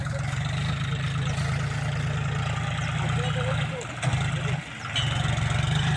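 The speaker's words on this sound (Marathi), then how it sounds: "ट्रॅक्टर आलाय या लागला इकडे ट्रॅक्टर." A tractor engine runs steadily close by on a farm, with a constant low throbbing drone that dips briefly once before settling back to the same idle-like hum.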